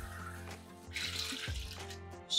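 Eight cups of water are poured into a pickling brine of apple cider and white distilled vinegar for cauliflower, making a short, close splashing rush with a few light clinks.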